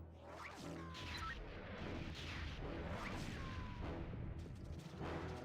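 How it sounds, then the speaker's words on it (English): Heavy explosions in the Nintendo 64 game Jet Force Gemini, played on real hardware through a CRT: repeated deep booms and crashing bursts rolling over one another in a continuous, dense wall of destruction. "I love the explosions in this."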